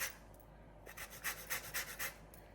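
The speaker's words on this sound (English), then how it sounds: "I'm going to zest some lemon peel in here as well" A zester rasps lemon peel over a bowl of ricotta, a quiet series of short, rhythmic scraping strokes heard close up with no one talking.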